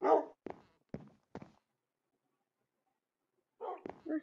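A dog in Minecraft barks a few times in quick succession, short and fairly close, then falls quiet before one more bark cluster near the end.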